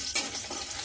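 Dried red chili dropped into hot oil for a Bengali milk shukto, giving a short burst of sizzling and crackling that quickly settles into a steady fry hiss.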